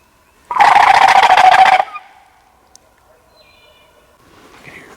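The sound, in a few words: domestic farm turkeys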